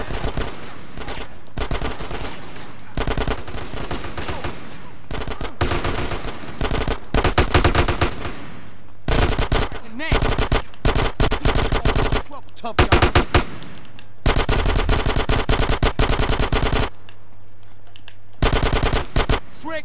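Heavy automatic gunfire in Grand Theft Auto: San Andreas, with loud, close, rapid bursts that repeat almost without a break, short pauses between volleys, and no talk over them.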